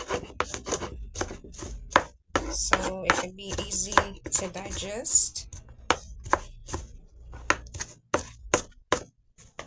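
Knife chopping vegetables into small pieces on a cutting board for a lentil stew, a fast run of sharp close taps with brief pauses, under occasional speech.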